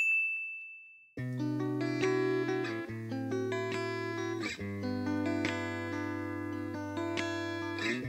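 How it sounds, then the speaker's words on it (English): A bright bell-like ding of a notification chime rings alone at the start, then gives way to a loud, sustained music bed with steady chords and repeated tonal hits. "please don't forget to subscribe and hit that notification bell"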